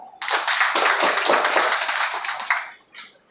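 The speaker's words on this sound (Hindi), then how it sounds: "ताली बजाओ।" A group at a training session breaks into brisk, dense hand clapping nearby, loud for a couple of seconds and then thinning out.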